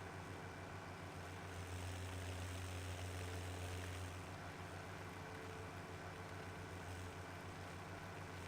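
Small farm tractor engine in Farming Simulator 17, running steadily with a low droning hum and a constant rhythmic chug throughout, fairly loud and alone.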